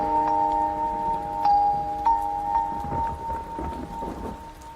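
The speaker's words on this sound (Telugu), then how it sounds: "వర్షం పడుతోంది" Steady rain falls through a Telugu film scene, a soft continuous hiss running under sustained music tones with a few brief clicks and thuds.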